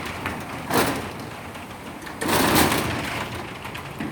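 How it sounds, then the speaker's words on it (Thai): A modern house door, likely a sliding type, is closed and locked at night during heavy rain, giving two broadband rolling, clunking bursts about a second and a half apart over a steady hiss of rain. "ปิดประตูบ้านแบบทันสมัย เนี่ยค่ะ ปิดแล้วค่ะ"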